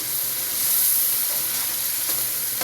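Spices sizzle steadily in a hot pot of oil for a chickpea pulao, a close, continuous bright hiss of frying with faint stirring, no voices.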